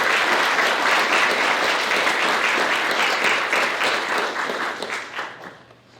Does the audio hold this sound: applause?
yes